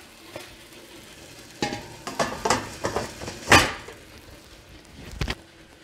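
Metal steamer tray set onto a pot of boiling water while steaming savory bánh đúc, a series of close clanks and scrapes of metal cookware with quieter gaps between them, and no talking.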